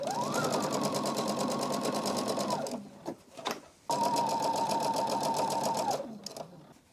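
A sewing machine stitching quilt strips with a 1/4 inch seam: two long, steady bursts of fast mechanical whirring, close and loud, separated by a brief pause, with no talking.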